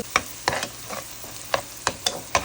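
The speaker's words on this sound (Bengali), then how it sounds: "আমার ভাজা অলমোস্ট হয়ে আসতেছে" Onions sizzle faintly in a pan while a spatula scrapes and stirs in short, regular strokes, about one every half second.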